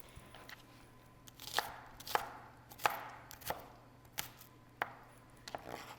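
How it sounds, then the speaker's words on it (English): A knife chops an onion on a cutting board in a home kitchen, giving a series of crisp, evenly spaced thunks about once every half second, close by and with no talk. "So there's lots of ways to cut onions, but we're just gonna chop it like that."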